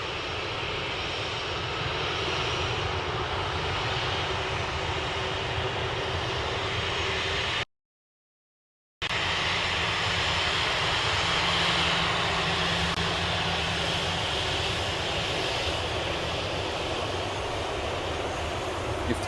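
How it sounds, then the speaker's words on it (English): A Singapore Airlines Boeing 777 takes off from runway 34 left at Sydney Airport, a loud, steady jet engine roar filling the air with broadband rumble, broken by a brief gap of silence before the thrust noise resumes. "it looks like we've got Singapore taxiing down to 34 left, so we'll get to see that take off"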